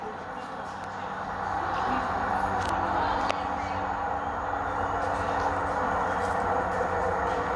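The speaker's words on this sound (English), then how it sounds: "First train in the video is going to be service to South Shields via Newcastle on platform number 1." A Tyne and Wear Metro train pulls in at Cullercoats station platform, a steady rumbling roar that builds within the first second and holds loud and close throughout, with a brief sharp metallic clank midway.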